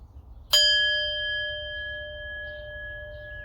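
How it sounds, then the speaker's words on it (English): A small bell is struck once, with a sharp onset followed by a clear, steady ringing tone that lingers and slowly fades over several seconds in a quiet room. "when you ring that bell and hear it reverberate"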